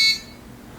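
Brief high-pitched alarm tone from a drone RF detector prototype, signaling a spike on the 5.8 GHz band; a single short electronic beep at the very start, then fading to quiet room noise.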